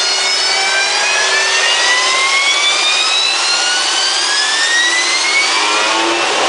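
Harrier jet engine of a USMC AV-8B heard from the cockpit, a loud steady roar with rising whining tones sweeping upward throughout, close and alone without voices.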